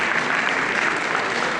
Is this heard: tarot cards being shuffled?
no